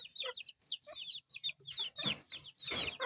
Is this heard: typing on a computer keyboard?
no